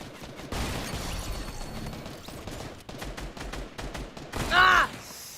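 Gunfire in a Fortnite match on Nintendo Switch, with an enemy sniper rifle firing during a fight against four players: a dense spread of shot-like bursts over game noise, then a loud sharp burst near the end.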